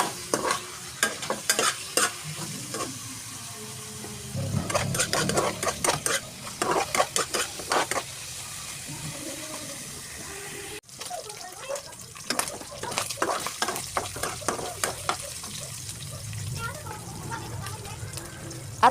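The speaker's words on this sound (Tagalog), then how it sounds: "ilagay niyo ang karne. At mekos-mekos ulit hanggang sa mag-brown na yung karne" Meat browns and sizzles in a pan for pinakbet while a utensil scrapes and stirs in repeated strokes, with clinks of cookware; a person talks over the cooking throughout.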